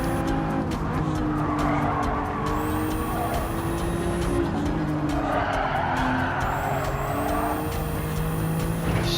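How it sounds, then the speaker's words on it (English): Race car in Gran Turismo 7 braking hard into a corner, tires squealing and skidding in long wavering screeches over a steady engine drone, loud and close throughout. "Slamming on brakes in a corner that can be taken flat out."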